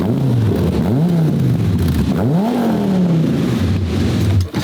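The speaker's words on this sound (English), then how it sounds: "I like revving other people's cars cold" A cold V10 car engine revs up and drops back several times in quick succession, loud and close, with no talking.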